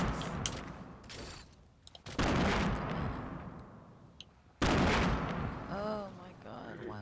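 Gunfire from the video game Fortnite aimed at a house, heard as sharp bursts of shots with loud booming impacts and echoing tails, two heavy blasts standing out among quicker cracks, with no talking.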